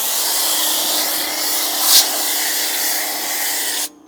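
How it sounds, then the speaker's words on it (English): A steady hissing spray of cleaner inside a car's wheel barrels runs continuously at close range, with a brief sharper burst midway before it cuts off suddenly. "He's spraying the inside of the barrels."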